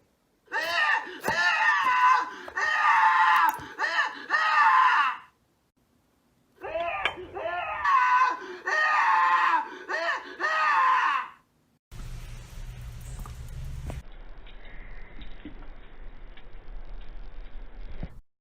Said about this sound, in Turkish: Bu kişi ne zaman bıçakla kesseniz bağıran bir çilek yapmış.